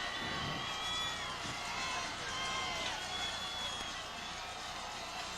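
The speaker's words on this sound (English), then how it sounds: "Crowd is getting loud." Crowd noise at a 2004 high school football Superbowl between Brockton and Everett, a dense, steady roar of cheering spectators with a commentator talking over it.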